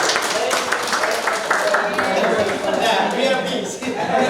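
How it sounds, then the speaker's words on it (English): An audience at a language and leadership training program claps together in a thick, continuous wash of applause that holds steady from start to finish, with faint chatter mixed in. "Make applause."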